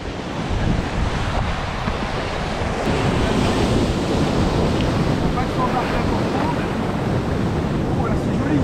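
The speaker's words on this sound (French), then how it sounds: "Les icebergs continuent de dériver et se font repousser par les vagues de l'océan" Ocean surf washes ashore on Diamond Beach in Iceland, where icebergs drift near the shoreline. A continuous, loud, close roar of breaking waves fills the whole stretch, with heavy wind buffeting the microphone throughout.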